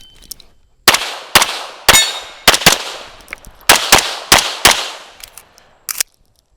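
Gunshots at a practical shooting range ring out as sharp, loud cracks with metallic clangs off steel targets, about a dozen irregularly spaced shots with brief ringing tails between them.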